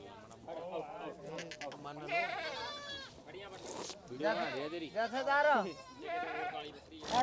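Goats bleat repeatedly, loud and close, over a busy crowd with people talking nearby at an outdoor goat market in Punjab.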